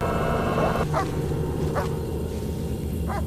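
A dog barks in a tense night scene from the True Detective season one finale: three short, sharp barks spaced about a second apart, heard over a steady, dense background score.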